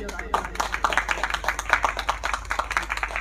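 An audience at a literary gathering claps in steady, moderately loud applause, dense and continuous.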